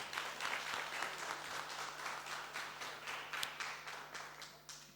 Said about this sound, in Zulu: Ngiyabonga Mpungose ngicela simshayile ihlombe.